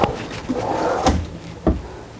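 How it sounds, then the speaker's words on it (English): Soft-close drawers inside a 2020 Newmar Kountry Star 3426 Class A diesel motorhome glide shut, giving a few muted thuds and low rumbles close by with no talking. "These drawers are soft close, by the way,"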